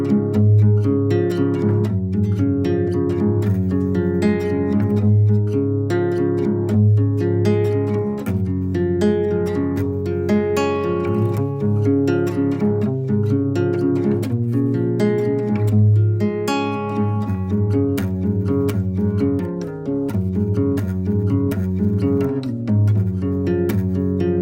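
Acoustic guitar plays the bridge of a song, a steady, sustained stretch of strummed and picked chords with a full low end, alone and without voices.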